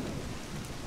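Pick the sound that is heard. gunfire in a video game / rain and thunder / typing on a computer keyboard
rain and thunder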